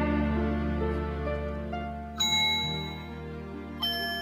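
Bell-like chimes from the video game Majora's Mask ring over a sustained musical drone, two bright struck tones entering midway and near the end, each ringing and slowly decaying, clear and alone without voices.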